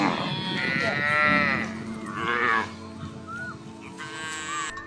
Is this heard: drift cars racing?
no